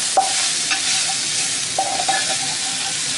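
Beef noodles stirred with a spoonful of flour in a hot pan, a loud even sizzle with a few brief scraping clinks of the utensil, short and without speech.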